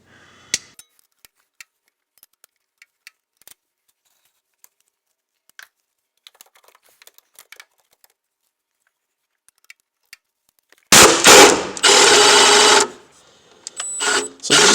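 A wrench works a 13 mm bracket bolt on the alternator of a 2008 Jaguar XJ8: scattered faint metallic ticks and clicks, then a burst of loud, harsh grinding and rattling near the end.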